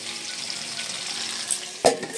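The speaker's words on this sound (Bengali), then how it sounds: "মাছের মাছের মাথা ভাজা ভাজি চলছে।" Fish heads fry in a pan with a continuous close sizzle and crackle, followed near the end by a sharp clatter of stirring.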